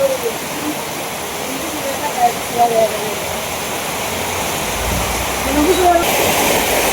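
A continuous rushing wash of falling water, like steady rain, runs throughout while people talk over it.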